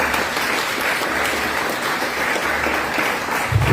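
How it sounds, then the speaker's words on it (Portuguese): A church congregation applauding during a deliverance service, a dense, steady roar of many hands clapping together, loud and continuous throughout. "aplauda o Senhor e se coloque em pé"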